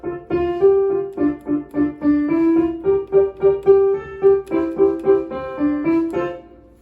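Piano plays the melody and rhythm of a song: a slow, steady line of clear single notes over a lower accompaniment, close and alone, fading out at the end.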